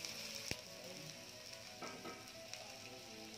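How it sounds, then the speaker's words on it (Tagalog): Marinated pork hits a hot pan for igado, an Ilocano dish, with a sharp crackle on contact that settles into a steady, soft sizzle and occasional pops. "ilalagay ko na ang minarinate kong pork"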